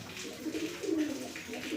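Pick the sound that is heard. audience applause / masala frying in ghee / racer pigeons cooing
racer pigeons cooing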